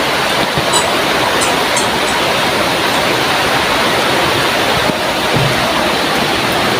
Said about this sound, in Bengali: দেখেন কি জোরে বৃষ্টি নামছে।